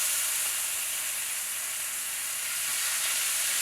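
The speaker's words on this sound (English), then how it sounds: "I'm gonna just pan fry it, get some color on it." Chicken with Cajun seasoning pan-frying in a pot, giving a loud, continuous bright sizzle up close, steady throughout with no talking.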